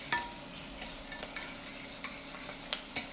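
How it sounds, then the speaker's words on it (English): Garlic frying in oil for a tomato sauce, stirred without stopping, makes a soft steady sizzle broken by a few clicks and scrapes of the utensil against the pan, heard alone. "Now, I added the garlic in here. Notice that I'm not stopping moving it."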